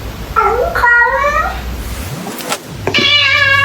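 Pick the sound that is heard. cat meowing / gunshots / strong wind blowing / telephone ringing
cat meowing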